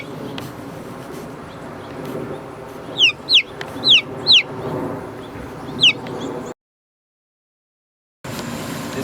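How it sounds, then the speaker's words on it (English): A white chicken outside its coop gives several sharp, clipped clucks in a short cluster, then one more a moment later, close and clear over a steady outdoor background that drops out near the end. "This is what I mean about being a happy chicken."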